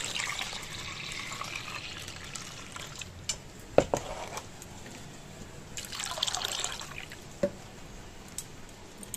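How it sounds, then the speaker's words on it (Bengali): Soaked chana dal is rinsed in water, giving soft quiet splashes and trickles with a few sharper clinks and sloshes as the lentils are swirled and the water poured off. "যতক্ষণ না পরিষ্কার জল বেরোয় আমি ভালো করে ডালটাকে ধুয়ে নিলাম"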